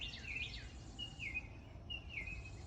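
Three short, high chirping bird calls repeat at even intervals, fairly faint above a low background hum, with no voices.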